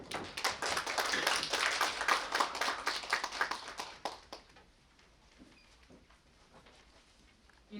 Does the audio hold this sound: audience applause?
yes